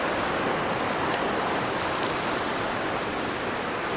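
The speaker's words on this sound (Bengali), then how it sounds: "রাতমোহনা ওয়াটারফলের সামনে দাঁড়িয়ে আছি এখন। খুব ভালো, অনেকটা জল, দারুণ লাগছে।" The Ratmohana waterfall carrying plenty of water, its flow a loud, steady, broadband rush with no breaks or voices.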